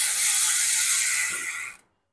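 A budget bicycle hub's freewheel spins with a fast, dense ratchet buzz, the clicks blurring into a steady hiss that runs close and continuous before cutting off abruptly.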